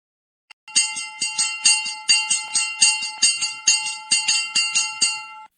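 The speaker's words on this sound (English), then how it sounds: "a vessel at anchor shall at intervals of not more than 1 minute ring the bell rapidly for about 5 seconds" A ship's bell on a vessel at anchor rings rapidly for about five seconds, a steady run of a dozen or so bright, ringing strikes close by, with no other sound.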